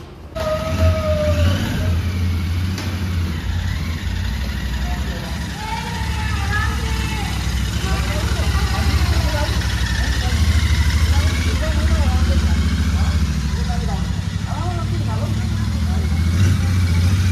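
A new Royal Enfield Interceptor 650 Mark II motorcycle engine idling steadily with a low, throbbing rumble and occasional revs, close by, while people talk over it.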